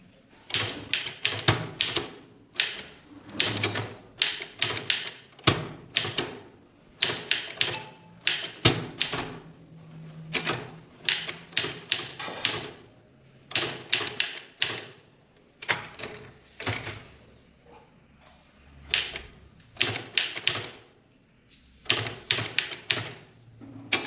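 A manual typewriter clatters in quick bursts of keystrokes, with pauses between lines while a Tamil legal proceeding letter is being typed; loud, close and alone.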